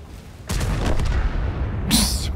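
A tank's 140 mm main gun fires in a World of Tanks–style video game, a loud sudden blast that booms and rumbles on for over a second, followed by a sharp metallic clank near the end.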